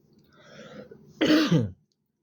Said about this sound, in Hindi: मेरे को थोड़ा खांसी आ रहा है दोस्तों